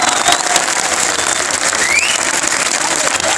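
Dense, steady applause from a large crowd at a political rally in Krishna Nagar, a continuous wash of claps filling the whole stretch with no pauses.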